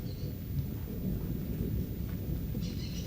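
A storm arrives with a continuous deep rumble of thunder and steady heavy rain, loud and enveloping, with no voices.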